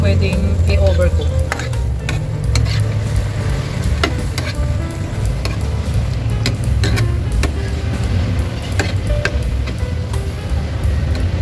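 Pork liver fries loudly in a pan, giving a dense continuous sizzle with sharp spatters and the intermittent scrape and clatter of stirring up close.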